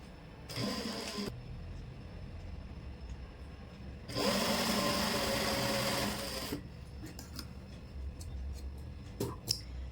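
Sewing machine stitching a zipper chain onto a pair of pants, running in two bursts: a short one under a second, then a steadier run of about two seconds. Faint clicks and handling noises sit between the bursts.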